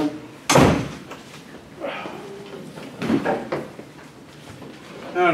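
A door shuts with a single sharp slam in an indoor classroom-like room, followed by faint shuffling and scattered quiet voices.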